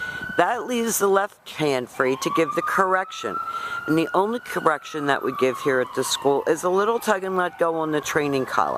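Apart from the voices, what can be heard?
emergency vehicle sirens passing outside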